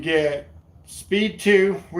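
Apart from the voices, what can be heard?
No everyday noise stands out behind the speech.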